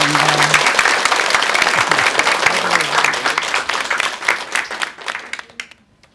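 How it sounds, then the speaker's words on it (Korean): A television studio audience gives loud, full applause after a lecture on at-home moxibustion. Dense clapping with a little talk underneath thins out and fades to silence near the end. "다시 한번 큰 박수 부탁드리겠습니다"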